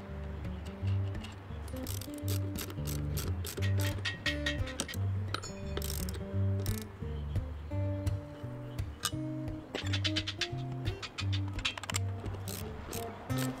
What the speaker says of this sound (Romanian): Strângem bine șuruburile de fixare.